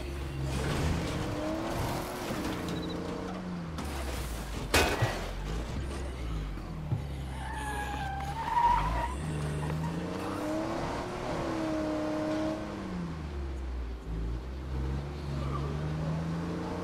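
Car engine in the State of Decay 2 zombie game drones steadily throughout, with rising and falling revs and brief tire skids, and faint voices occasionally under it.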